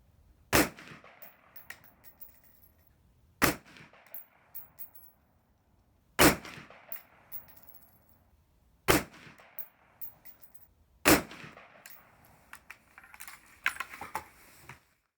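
Shots from a Brownell's A1 M16-style rifle: five loud, sharp single reports spaced about three seconds apart, each followed by a short decay and faint metallic clinks, with quiet between shots.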